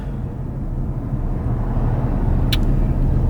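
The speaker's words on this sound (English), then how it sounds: "I am just stuck on one of the side roads in traffic" Road traffic rumbles steadily on a side road during a jam, a dense, close low drone with a brief sharp squeak partway through.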